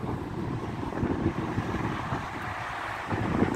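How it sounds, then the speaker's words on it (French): Strong wind blows across the microphone outdoors, a constant rough low rumble with gusty swells, loud and unbroken and with no voices. "Il y a beaucoup de vent."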